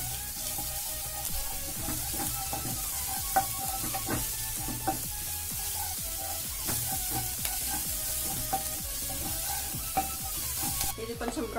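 Vegetables for a veg cheese burger frying with oregano, chilli flakes and ginger garlic paste, a steady low sizzle under frequent clicking stirs and scrapes of a spoon in the pan, close and without talk.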